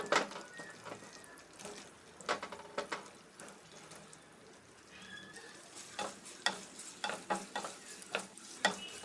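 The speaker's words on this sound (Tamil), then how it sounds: "அடுப்பை மீடியமான ஃப்ளேமில் வச்சு ஃப்ரை பண்ணி எடுத்துக்கலாங்க." Paneer frying in butter in a pan over a medium flame, giving a soft, crackling sizzle broken by irregular spattering pops and bursts, close but fairly quiet, with no talking.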